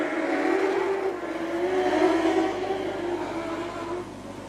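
Production sedans racing on the Gympie Speedway dirt oval, engines roaring in a sustained, fairly loud drone that swells and eases slightly as the pack passes, with no commentary.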